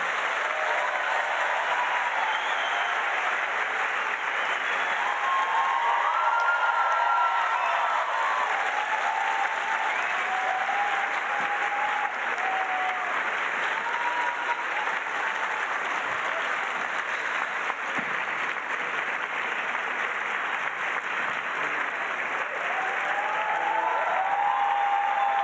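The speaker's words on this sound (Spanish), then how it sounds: "Denle un fuerte aplauso a nuestras invitadas." An audience at a book festival conversation applauds its guests, a long steady wash of many hands clapping, even and moderately loud, with faint voices rising through it.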